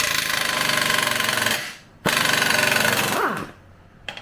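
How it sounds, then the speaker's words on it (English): Pneumatic impact wrench hammering at a balancer gear nut on a Kawasaki Bayou ATV engine during a bottom-end teardown, loud rapid rattling bursts close by with a brief pause, then a second burst that winds down. "Try to get this balancer gear nut off."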